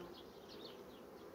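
Honeybees crowd a hive frame set out with a high-protein feed, giving a faint, steady hum and buzz that carries through the whole stretch with no break and no voices.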